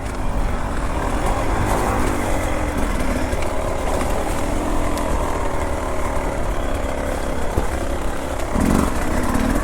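A Beta 300RR two-stroke enduro motorcycle climbs a steep rocky trail in Marquette, Michigan. The engine drones loud and close without a break, its revs shifting slightly as the bike picks its way up.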